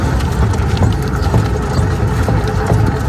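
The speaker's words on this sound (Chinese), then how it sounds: "大家先听一下这台车行驶的时候有咚咚咚的声音" An electric tricycle being driven with a worn half-shaft axle bearing, its left wheel giving a repeated knocking thump once per turn over a continuous low rolling rumble.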